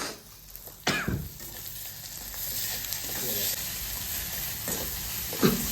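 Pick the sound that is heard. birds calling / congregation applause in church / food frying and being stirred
food frying and being stirred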